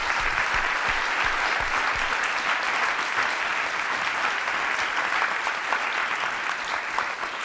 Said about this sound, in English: If we can give a round of applause to our panelists.